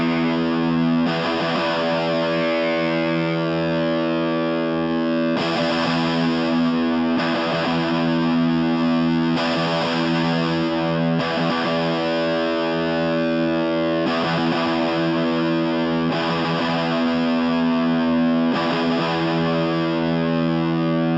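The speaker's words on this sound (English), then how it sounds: "I'm going to try and play the guitar and flip this on and off just so you can hear what this notch out frequency is doing" A distorted electric rhythm guitar with a narrow notch EQ cut near 2 kHz being toggled on and off, playing loud, steady sustained chords with regular strummed attacks every couple of seconds, heard alone without talk.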